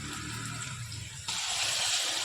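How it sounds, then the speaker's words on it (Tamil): Water pouring steadily into a pot, a continuous splashing gush that grows brighter and louder partway through. "இப்போ தண்ணி சேர்த்தாச்சு."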